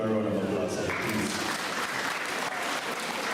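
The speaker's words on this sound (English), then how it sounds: "Give her a round of applause, please." Applause for a senior teacher at a primary and infant school graduation ceremony, a steady dense wash of clapping from a hall audience, with a voice audible over it at the start.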